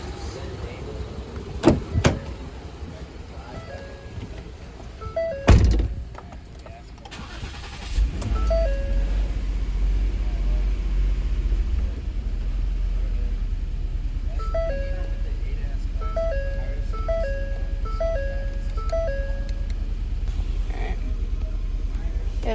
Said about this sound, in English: and we'll go ahead and start the vehicle.